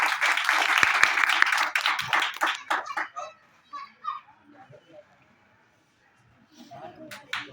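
A group of children clap for a student at a Children's Day celebration in a coaching class, a dense burst of applause for about three seconds that fades into scattered children's chatter and voices.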